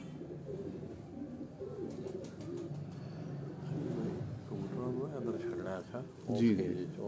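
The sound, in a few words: pigeons cooing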